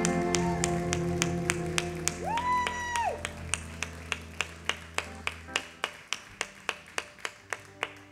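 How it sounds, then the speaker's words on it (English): A small live-show audience at Gilley's Place claps in a sparse, evenly spaced pattern of sharp individual claps. A sung note sits briefly under the start before the claps thin out toward the end. "That's actually too much applause for somebody like me."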